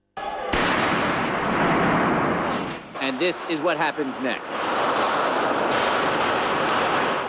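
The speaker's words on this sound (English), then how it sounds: "Gunfire echoing off the ornate, historic walls of Parliament." Bursts of loud, sharp gunfire ring out and echo off the ornate walls inside the Parliament building, with a brief stretch of talking in the middle before the reverberant shots resume.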